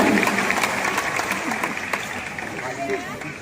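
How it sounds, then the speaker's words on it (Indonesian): Crowd at an Indonesian welcoming ceremony with war dance and stone jumping applauding loudly, dense continuous clapping with voices and babble mixed in, gradually easing toward the end. "Mari kita berikan tepuk tangan yang paling meriah untuk kita semua."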